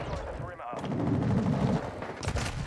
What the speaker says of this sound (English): I didn't mean to chuck the grenade